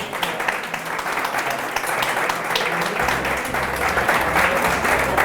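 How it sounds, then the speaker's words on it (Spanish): A room of people applauds the day's speaker at a gathering, dense, continuous clapping that holds steady and fairly loud for the whole stretch, with a faint murmur of voices underneath. "Un aplauso para nuestro ponente de hoy"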